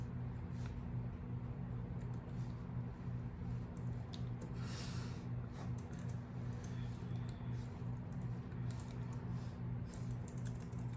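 Typing on a computer keyboard: quiet, rapid key clicks in irregular bursts over a steady low electrical hum, close and faint.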